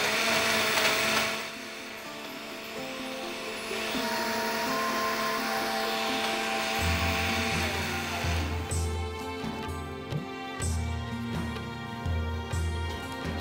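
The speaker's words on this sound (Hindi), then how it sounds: "हमने जो ब्लेंडर है उसमें पहले शुगर डाल के ब्लेंड करना है और आइस उसके बाद में ऐड करेंगे" An electric kitchen blender churns sugar and then ice for an almond shake with Rooh Afza, a steady loud whirring roar that shifts pitch partway through as the load changes, running continuously without speech.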